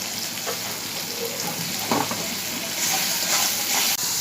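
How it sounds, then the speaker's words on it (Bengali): A spice paste with salt and cumin powder sautéing in a pan, a dense continuous sizzle with scraping stirs, loud and close, with no voices over it. "এবার ভালো করে এটা কষিয়ে নেব"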